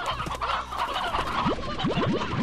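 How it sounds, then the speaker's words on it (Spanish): Chickens clucking in the Slime Rancher video game, a few rising squawks near the end over a steady game ambience, with no talking. "a pillar las gallinas"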